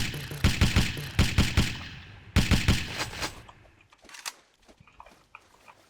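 Rapid bursts of video game gunfire, a quick string of loud sharp shots followed by another volley, then trailing into quieter scattered clatter and thumps, with no one talking.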